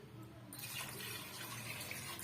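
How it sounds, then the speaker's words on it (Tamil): Water pours into lentils with turmeric in a pressure cooker for village-style brinjal sambar. After a brief quiet start it becomes a close, steady gushing splash that runs on to the end. "இப்போ தேவையான அளவுக்கு தண்ணி ஊற்றிக்கலாம்"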